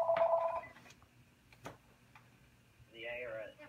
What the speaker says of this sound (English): Oh my gosh, a phone call!